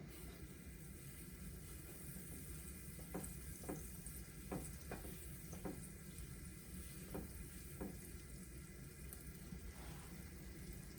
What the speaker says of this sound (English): add your butter. And allow it to melt.